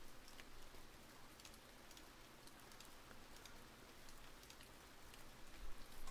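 Steady rain in a video game falls throughout, a dense broadband patter with occasional louder drops, no voices over it.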